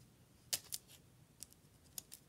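Scissors snip open the top of a basketball trading card pack in a few quick, sharp, close cuts with short pauses between them, set against a quiet room.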